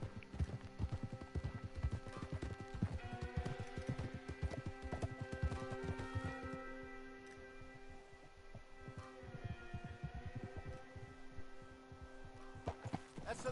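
Horse hooves clip-clop steadily at a riding pace in Red Dead Redemption 2, near Moonstone Pond, with a sustained musical score and ambient hum running beneath the continuous hoofbeats.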